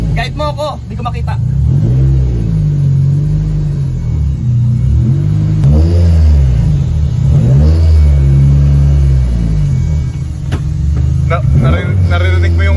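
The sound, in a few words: car engine revving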